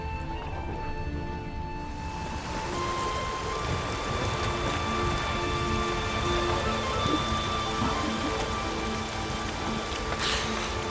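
Heavy rain in The Witcher 3: Wild Hunt pours steadily, a dense, continuous patter close by with no voices, holding constant throughout.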